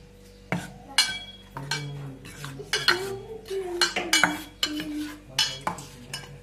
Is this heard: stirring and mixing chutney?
yes